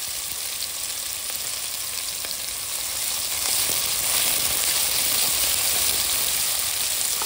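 Chopped onion fries in oil just after a whole-cumin tempering, a continuous bright sizzle and hiss that grows slightly louder partway through, close and steady, with no voices.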